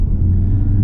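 A 2023 Honda Civic Type R FL5 fitted with a new front strut bar, engine rumbling steadily at low speed from inside the cabin, a continuous dense drone with no talk.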